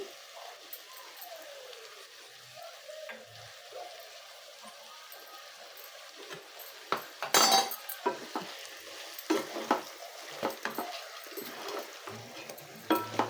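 A spoon stirs turmeric and salt into raw chicken pieces in a metal vessel, with quiet scraping and clinking taps, sparse at first and then more frequent and louder.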